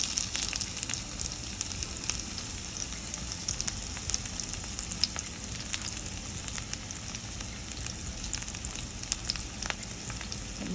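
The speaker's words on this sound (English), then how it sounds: "I'm gonna put my onions in there." Chopped onions frying in vegetable oil in a pan for Jamaican ackee and saltfish, a soft, continuous crackling sizzle with faint ticks throughout, fairly quiet and without voices.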